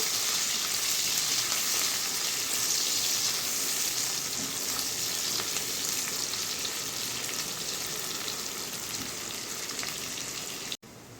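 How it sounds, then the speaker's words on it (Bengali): Chopped onions frying in a pan for a chapila fish and eggplant bhuna, giving a loud, continuous dense sizzle close by that stays even throughout and cuts off abruptly near the end. "তিন চারটা পেঁয়াজ কেটে তুলে রেখেছিলাম সেটা দিয়ে দিলাম তারপর একটু লাল করে ভেজে নিতে হবে"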